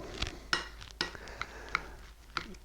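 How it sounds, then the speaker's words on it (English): A spoon scrapes and clinks against a bowl while mixing egg salad made with mayo and a little mustard. The sharp metallic taps come about every half second over softer stirring. "I'm going to start mixing some of this up"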